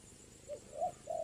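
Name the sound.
spotted dove (tekukur) cooing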